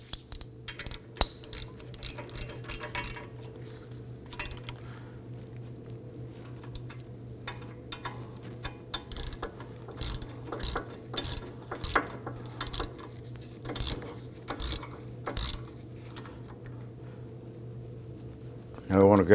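A ratchet snugs down the front brake caliper bolts on a 2003-2014 Volvo XC90, giving irregular bursts of quick clicking near at hand, faint against a quiet hum of the garage.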